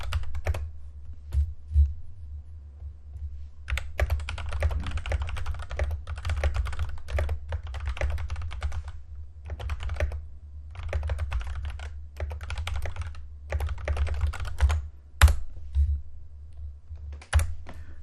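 Keys clack on a computer keyboard in irregular bursts of typing with short pauses, close and fairly quiet over a low steady hum, with no talking.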